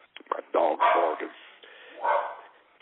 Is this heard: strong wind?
no